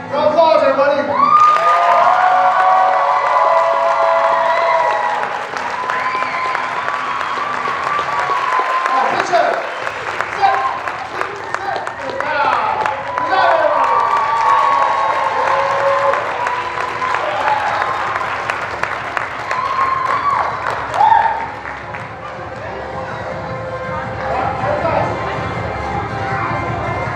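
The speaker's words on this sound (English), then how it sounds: "Round of applause, everybody." Applause at a black belt martial arts ceremony, a crowd clapping loudly and continuously with cheers and shouts mixed in, dense and sustained, with voices and music faintly underneath.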